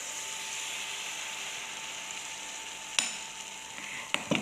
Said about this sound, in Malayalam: നമുക്ക് ഓരോന്ന് എടുത്തിട്ട് പൊരിച്ചെടുക്കാം.